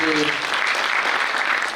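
An audience claps continuously for the first show of a stage play, with dense, steady applause filling the whole stretch at a fairly loud level and no voices on top.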